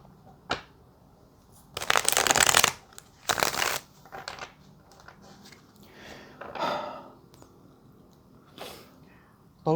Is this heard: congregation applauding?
no